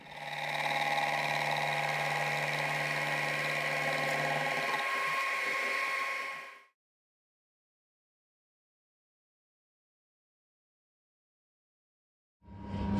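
A metal machining cut knocks the corners off a part during a hydraulic cylinder repair in a machine shop. A steady, loud mechanical whir runs for several seconds, then stops into silence, and starts again briefly at the end.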